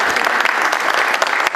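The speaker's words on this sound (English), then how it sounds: "give a round of applause" Loud, dense applause fills the room from an audience at a Lilac Time tiara presentation by the Lombard Park District, many hands clapping together in a continuous roar.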